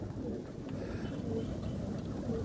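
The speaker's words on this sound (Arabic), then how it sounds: "احنا كده معانا حمام كتير" Soft, low pigeon coos outdoors at night in Imbaba, Egypt, faint against a steady background murmur.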